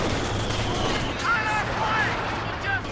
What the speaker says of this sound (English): MG-42! Taking flanking fire!